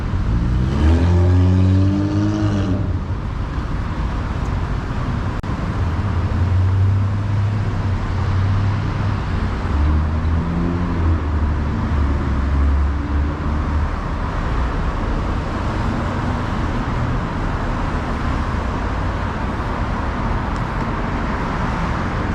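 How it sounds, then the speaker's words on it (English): Continuous city traffic rumbles through a busy San Francisco intersection where cars come off the Bay Bridge, with engines accelerating and a steady roar of passing vehicles, no voices. "This intersection is always like traffic because this is people getting off the Bay Bridge entering the city."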